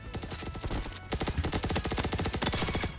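Scorpion Evo submachine gun in Roblox Bad Business firing rapid sustained bursts, a dense stream of close, sharp shots with a brief pause near the start before the fire resumes steadily.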